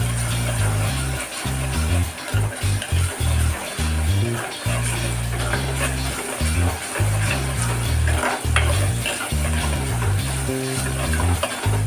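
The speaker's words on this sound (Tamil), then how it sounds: "இந்த பச்சை வாசம் போகிற வரைக்கும் நல்லா வதக்கிடலாம்." Ginger and garlic sautéing in a hot pan, a steady loud sizzle with scraping and stirring, while a heavy low rumble runs throughout.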